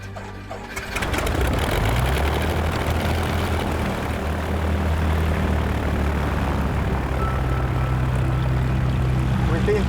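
Airplane engine and propeller droning loud and steady at the start of a skydive from 12,000 feet, rising quickly after a brief quieter opening and holding a constant roar throughout.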